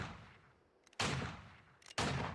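Ringo fires shots in the Vainglory 5v5 video game: two sharp, loud gunshot bursts about a second apart, each one trailing off, with no talk over them.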